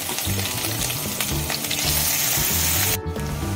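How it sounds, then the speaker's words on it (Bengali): Chopped garlic, ginger and green chilli fry in hot oil in a pan, giving a loud, close, continuous sizzle with a brief dip near the end. "রসুন কুচি, আদা কুচি, কাঁচা লঙ্কা, তিনটিকে ভালো করে ভেজে নেব"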